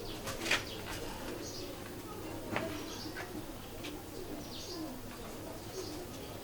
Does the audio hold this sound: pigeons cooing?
yes